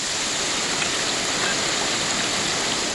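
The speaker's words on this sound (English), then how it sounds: "Cyclone Nisarga made landfall near Alibag, 100 kilometers south of Mumbai, bringing in heavy rains and gushing winds." Heavy rain from Cyclone Nisarga pours down near Mumbai, a dense, steady roar of downpour that holds loud and unbroken throughout with no voices.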